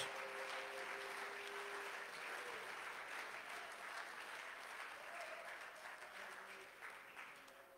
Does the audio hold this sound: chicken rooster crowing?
no